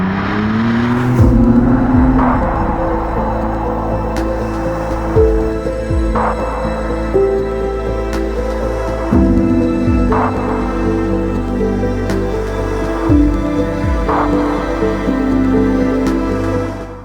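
McLaren Artura supercar driving, its engine note loud and close, climbing and dropping repeatedly through gear changes in a steady, continuous drone with no talking.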